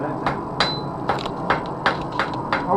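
Blacksmith's hammer striking metal in a demonstration, a series of about eight ringing blows spaced roughly half a second apart, close and clear over a low background.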